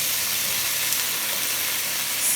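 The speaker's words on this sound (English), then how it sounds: "Add carrots, stir, add green beans, stir, add the potatoes," Potatoes go into a pot of beef stew with carrots and green beans, giving a loud steady sizzle and hiss that fills the whole moment with no pauses.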